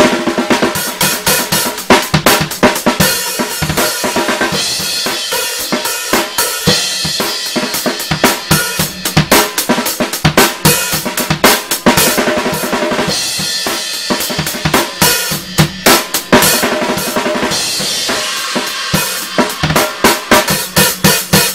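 A fast, busy drum break beat with crisp hi-hats and punchy hits, playing loud and continuously throughout.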